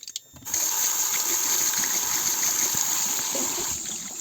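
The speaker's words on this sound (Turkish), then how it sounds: "Şimdi elimi yıkayıp gireceğim." Tap water runs hard into a sink during handwashing with soap, starting abruptly after a brief quiet moment and then pouring as a steady, close, bright gush that eases slightly near the end.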